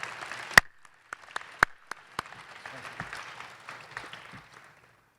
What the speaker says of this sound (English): Let's give Joe Kacharski, our voice of the Pacers, a big round of applause for his efforts tonight.